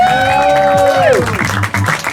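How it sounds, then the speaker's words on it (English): Audience applause rises at a fashion show at Artcarfest 2015, dense clapping mixed with crowd noise and a few whoops, with sustained tonal sounds weaving through before the clapping continues alone. "Once again, a round of applause, please."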